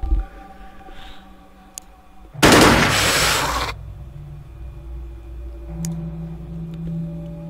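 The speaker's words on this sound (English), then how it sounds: "at this close range, I think a burst fire is the way to go" A burst of gunfire in the Xenonauts video game: one dense, loud rattle lasting about a second, standing out sharply against a quiet background hum, then fading into a low ambient drone.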